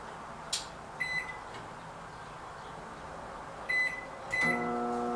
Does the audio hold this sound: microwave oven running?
yes